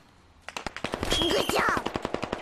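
Rapid automatic gunfire in the video game Squad erupts after a brief quiet start, a fast and loud regular burst of sharp shots that keeps going to the end, with a faint voice-like whistling tone mixed in.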